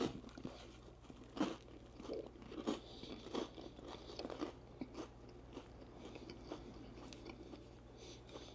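Close, crunchy bites and steady chewing on a turkey bacon torta, with bursts of crunch spread across the stretch and no talking.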